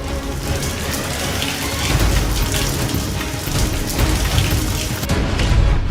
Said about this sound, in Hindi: शहर शहर बारिश का कहर देखिए।